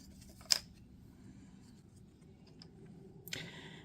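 Scissors cut through cardstock for a Christmas craft project, two sharp close snips a few seconds apart over quiet room hum.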